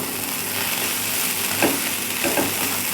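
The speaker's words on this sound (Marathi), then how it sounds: "आणि एक दोन मिनिट फ्राय करून घ्यायचे मसाला आपला मस्त फ्राय झालेला आहे" Spice masala with garlic and ginger frying in a pan for a mutton curry, a steady close sizzle with a couple of brief stirring scrapes near the end.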